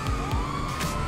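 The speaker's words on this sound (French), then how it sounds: "Une ambulance." A loud video-game ambulance siren wails continuously up close, its rising and falling tone sweeping quickly and filling the whole short moment.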